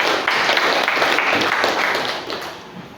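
An audience in a classroom setting bursts into steady applause, a dense wash of clapping that stays loud for about two seconds before tapering off.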